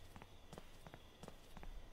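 Footsteps walking to a car at night in Thief Simulator, a soft, steady run of several paced steps, fairly faint, with no talk.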